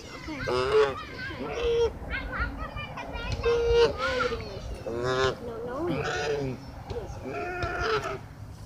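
Geese honk and bleat repeatedly at close range, short nasal calls scattered over a steady outdoor background with occasional voices.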